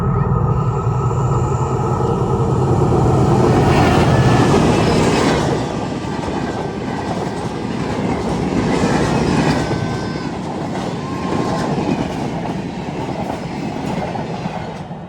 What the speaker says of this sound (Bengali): আর একটু পরে ট্রেন চলে আসবে